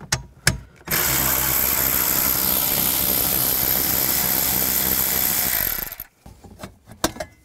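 Ratchet wrench with a 10mm socket working bolts loose on a 2013-17 Ford Police Interceptor Utility panel, a dense continuous ratcheting burst of about five seconds, close and loud, framed by brief handling clicks.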